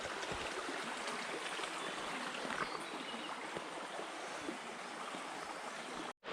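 The Vermilion River rushes steadily where a small creek empties into it, a continuous broadband wash of flowing water, close and fairly even, with no voices.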